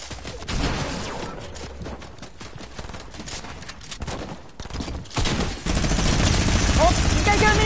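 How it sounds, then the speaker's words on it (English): Rapid video-game gunfire, including a minigun, rattles in dense continuous bursts that stay loud throughout and swell toward the end amid chaotic game effects. "Minigun around me."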